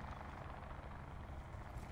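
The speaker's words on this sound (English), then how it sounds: "Helicopter again? Oh. It's coming over here." Helicopter in Call of Duty: Black Ops 4 Blackout, a steady low rotor rumble and whir filling the whole moment at moderate distance, with no talk over it.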